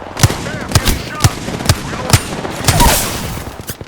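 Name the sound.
gunfire in first-person shooter video game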